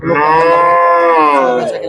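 Cattle at the Udaipur cow market low in a long, loud, close moo that holds steady for nearly two seconds with a rich harmonic tone, with no talk over it.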